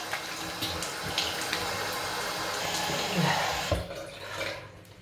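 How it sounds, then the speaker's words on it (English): Warm water splashes and runs steadily as a face is washed, a continuous close watery wash with brief sloshes and drips toward the end. "Let's go ahead and wash it with little warm water"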